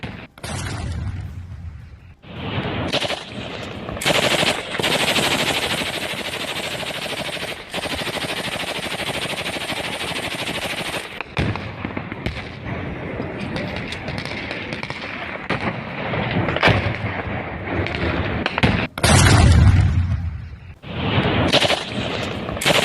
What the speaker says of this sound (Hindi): बम धमाके की ये जो गूंज है देखिए सुनाई भी साफ दे रही होगी